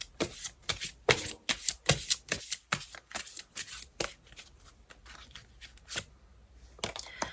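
A tarot deck is shuffled by hand before a card is drawn, producing a quick run of rhythmic, papery riffling slaps close to the mic that slow and thin out toward the end.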